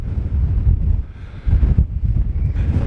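Strong gusty wind buffets the microphone on exposed cliff tops above the sea, a loud low roar that swells and dips in surges, close and unbroken, with no one talking.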